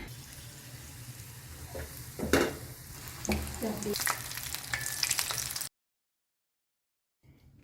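Batter-coated susiyan balls, sweet dumplings made with rice flour, drop into hot oil in a pan, giving a soft, steady sizzle with a few brief splashes and clatters, then sudden silence near the end.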